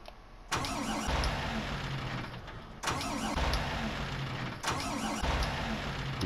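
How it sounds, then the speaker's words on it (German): A Fendt 1050 tractor engine cranks and fires up, then settles into a loud, steady diesel run, with three repeated start-and-run sequences close by and no talking. "Und der Fendt 1050er hört sich so an."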